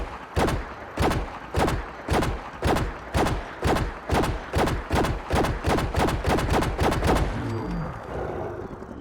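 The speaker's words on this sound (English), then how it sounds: "taking shots at the chest with our Wattz laser pistol here" Wattz laser pistol fired repeatedly in Fallout 4, about eighteen sharp, evenly spaced shots in a steady rhythm, loud and close, with no talking.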